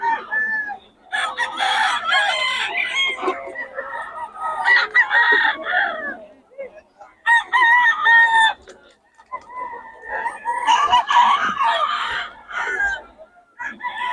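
Golden Boy sweater cross gamecock crowing repeatedly at close range, loud drawn-out crows interspersed with clucking and short gaps, with faint talk in the background.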